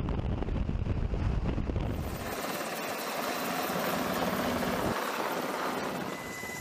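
Steady, loud Navy helicopter rotor whir with a broad roaring wash and gusty wind buffeting, continuous throughout with no voices.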